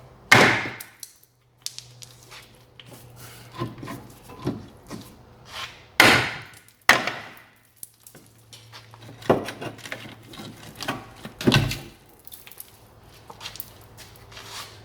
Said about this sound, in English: I will be hitting it quite hard with the hammer just to free it off